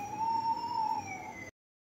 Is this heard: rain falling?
no